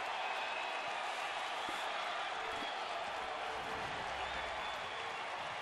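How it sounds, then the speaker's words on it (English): A Friday night baseball crowd at Progressive Field in Cleveland, facing the Angels, roars and applauds steadily on its feet, a broad, sustained wash of cheering with no letup. "So this Friday night crowd here at Progressive Field up on its feet."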